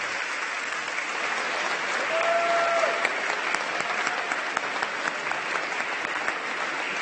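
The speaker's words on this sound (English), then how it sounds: "Let's give our mayor another round of applause." A crowd claps steadily and loudly for the mayor at a San Jose State of the City event, a dense, even patter of many hands that swells slightly midway and keeps going.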